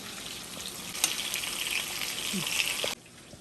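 Fish frying in the same oil for a second batch gives a steady, close crackling sizzle for about three seconds that then cuts off abruptly.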